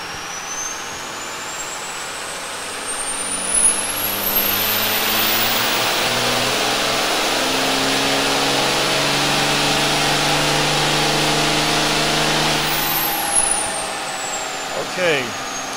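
A turbocharged engine on a dyno pulls steadily from 2200 to 3000 RPM, a loud continuous roar with rising turbo whine across the run, then fading at the end.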